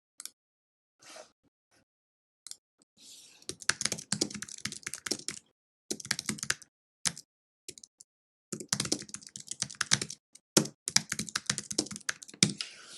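A search being typed on a computer keyboard: short bursts of rapid, close key clicks separated by silent pauses, with no talking.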